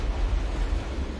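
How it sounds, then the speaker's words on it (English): Ocean waves crash along a wild Atlantic coastline in a steady, close roar of surf, with heavy low rumble and some wind noise, no voices present. "To feel the rush of crashing waves."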